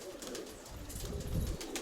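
Pigeons coo softly in a low, rolling murmur, close by, over faint background noise.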